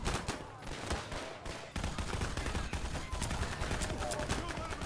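A flare gun fired in the video game Garry's Mod during a survivors-versus-zombies horde fight, with sharp shots and a burst of gunfire over a dense, noisy game soundscape.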